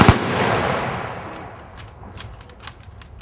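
A rifle volley fired as a Memorial Day salute in Piscataway, New Jersey: one sharp, loud crack at the start that rings out and fades over several seconds in open air.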